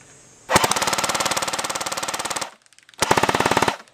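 A TM2H airsoft gun fires a long rapid burst of BBs at a pan hanging on a tree about 113 feet away, then a brief pause and a shorter burst, loud, close, and mechanical, with no talk.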